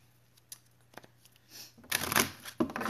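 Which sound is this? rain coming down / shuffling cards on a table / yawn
shuffling cards on a table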